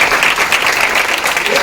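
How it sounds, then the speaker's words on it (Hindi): Students at a composite school clap for a classmate, a dense burst of close applause that stays steady and loud throughout. "इनके लिए जोरदार तालियां।"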